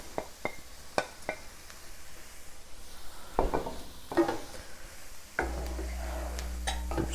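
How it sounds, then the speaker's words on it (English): Baby bella mushrooms and onions in a pan for mushroom risotto, stirred with a spoon: scattered scrapes and taps over a steady low sizzle, the frying hiss growing denser and louder near the end. "I'm just going to stir those in until those start to soften up a bit."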